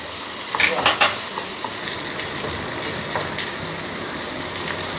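Onions and green chillies sautéing lightly in a pan for an anchovy fry, a loud continuous sizzle with occasional stirring scrapes close by, no talking.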